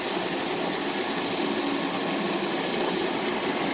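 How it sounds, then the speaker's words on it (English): A 1993 Mercedes 500E engine idling steadily on its own, a constant even hum with a faint vibrating buzz and no pauses, recorded outdoors in cold weather. "The engine runs good."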